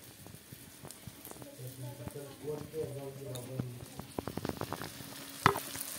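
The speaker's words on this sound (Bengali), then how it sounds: "দেখো, মশলার সাথে এখন চিকেনটা ঢেলে দিলাম।" Chicken tipped into a pan of spices already fried down, a soft sizzle and frying hiss with a few stirring scrapes and clacks, quiet and close.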